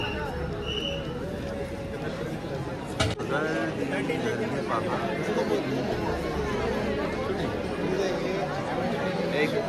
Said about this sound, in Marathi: भयंकर गर्दी